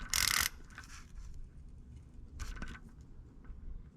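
Ratchet fitted with extensions, a pivot and an 8mm socket clicks back and forth while tightening and loosening a bolt during EGR removal on a 2011-2014 Ford F250/F350 6.7 Powerstroke, in two short bursts of close clicking with a quiet pause between them.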